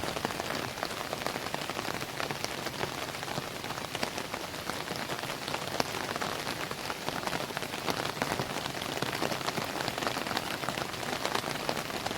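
A steady, dense downpour of heavy Konkan monsoon rain hisses and patters on surfaces, close and constant for the whole stretch with no voices.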